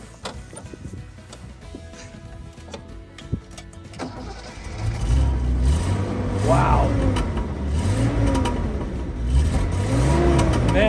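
A 1972 Datsun 240Z with 55k miles cranks and fires up about four seconds in, then idles and revs in several rising and falling pulls, loud and close, with a brief exclamation from someone nearby.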